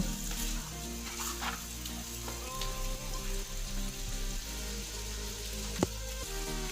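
Chicken masala paste fries on low heat with a continuous crackling sizzle, one brief sharp clatter near the end, and no talking.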